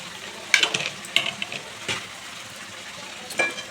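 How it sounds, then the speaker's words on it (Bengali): Chicken curry with chopped tomato, capsicum and onion stir-fried in oil and spices, a low steady sizzle broken by a few scraping spatula strokes against the pan. "আবারও সব কিছু ভালো করে কষিয়ে নেব।"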